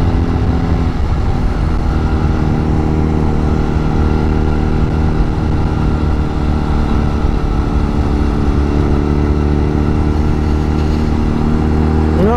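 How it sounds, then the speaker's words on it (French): Honda Rebel 125 bobber motorcycle exhaust droning steadily while riding, a continuous loud engine note with a brief rise in pitch near the end. "Mais par contre ça fait pas mal de bruit. Hein. Le pot d'échappement il est franchement sympa."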